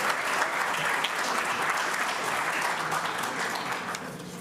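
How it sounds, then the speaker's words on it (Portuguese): Audience applause at a brand awards ceremony in Minas Gerais, a full, continuous sheet of clapping from a large room, held steady for several seconds with no talk. "Eu peço, por favor, uma salva de palmas a essas marcas vencedoras."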